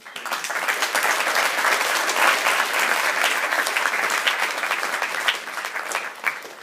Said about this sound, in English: So they need to have a little round of applause for their insight.